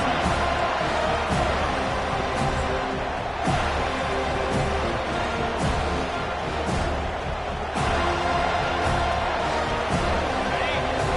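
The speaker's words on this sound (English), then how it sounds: "this crowd is turning it up a notch." A football stadium crowd at a Michigan vs FSU game roars steadily throughout, with bursts of cheering rising and falling under continuous talk.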